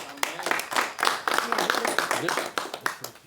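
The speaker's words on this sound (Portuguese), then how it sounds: "Quantos podem dar uma salva de palmas para Jesus?" A church congregation claps hands together at a worship gathering, a dense, steady patter of many hands with voices mixed in throughout.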